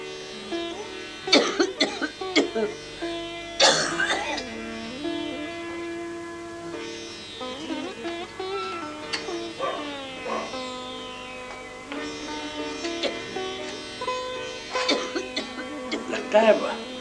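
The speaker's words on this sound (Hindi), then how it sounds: "हाय, ये खांसी नहीं रुक रही, सीने में बहुत जलन हो रही है" An elderly woman with a burning chest has a persistent coughing fit in a domestic drama scene. Repeated coughs and throat-clearing come in bursts, mixed with strained vocal sounds over a soft musical background.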